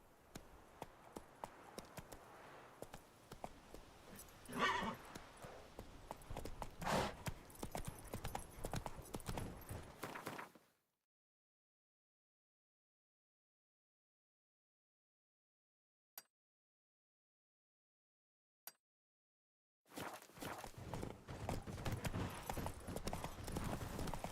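Hooves of the horse Roach clip-clop along in The Witcher 3, a steady walking rhythm with ambient game sound, broken by a long silent gap before resuming.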